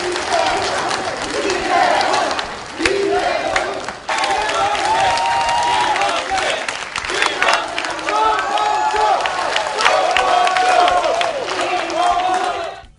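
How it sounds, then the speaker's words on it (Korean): Debate supporters at a Saenuri Party Seoul mayoral candidate policy debate clap and chant candidates' names in loud, rhythmic competing bursts, a dense crowd roar of cheering and shouting that carries on throughout. "각 후보 지지자들은 손뼉을 치며 경쟁적으로 후보들의 이름을 외쳤습니다"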